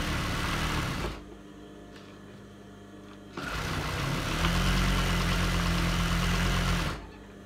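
A sewing machine stitches a pair of shorts in two loud, steady runs of rapid mechanical whirring, separated by a quiet pause of about two seconds, heard close up.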